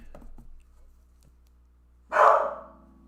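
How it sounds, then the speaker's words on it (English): A single dog bark rings out clearly and loudly near the end, after a few faint sounds and quiet stretches. "Is he done barking?"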